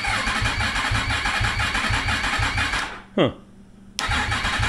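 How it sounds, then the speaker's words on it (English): A 2023 Yamaha MT-10 motorcycle fitted with a Leo Vince decat pipe rumbles in a loud, close, lumpy pulsing rhythm that cuts out and then returns, with someone briefly speaking. "Let's start it up and see what it sounds like."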